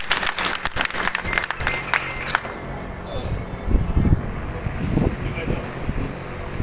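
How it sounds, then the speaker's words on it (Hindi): An audience at a Congress party block meeting in Byawara breaks into loud, dense clapping that fades after a few seconds, followed by someone speaking over an amplified hall. "एक बार जोरदार तालियां जहां भी आप बैठे वहां से लगातार बजती रहना चाहिए।"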